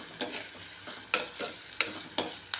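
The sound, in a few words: stirring onion, green chili, curry leaves frying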